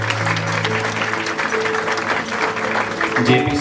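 Hall audience at a scholarship award ceremony breaks into sustained applause, a thick wash of many hands clapping continuously at steady volume, with faint background murmur and a brief shift near the end.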